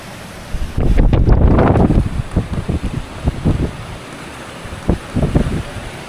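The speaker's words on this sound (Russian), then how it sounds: "Это уже ветер свистит в снастях." Strong gusts of 31-35+ knot wind buffet and roar, with a whistling rush through a sailboat's rigging that swells loudly at first, then comes in shorter bursts.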